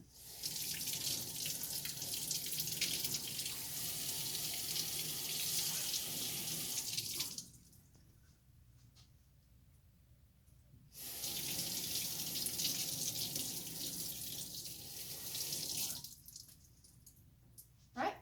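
Tap water runs steadily into a sink as soap is rinsed from hands during a surgical scrub. The stream cuts out for a few seconds, flows again, then stops near the end, with a quiet gap between the runs.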